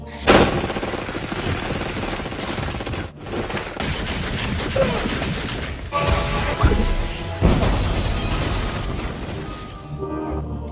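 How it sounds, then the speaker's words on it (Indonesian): A film action scene has a SWAT team blowing up an apartment and breaking in: a sudden blast opens a dense, chaotic run of gunfire, crashes and booms that continues loudly throughout, with a couple of brief drop-outs. "tim SU meledakkan apartemen sebelum mendobrak masuk."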